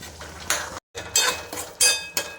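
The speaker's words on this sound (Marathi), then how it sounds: "लालसर होईपर्यंत रवा भाजून घेते" Semolina dry-roasting in a pan, with a spoon stirring and scraping in several short, fairly loud bursts and a brief gap of silence between them.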